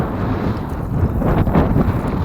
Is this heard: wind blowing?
yes